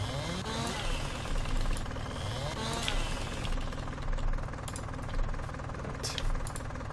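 A tractor engine in the Farming Simulator 19 video game drones and knocks continuously at a steady mid pitch, a constant mechanical rumble with no pauses.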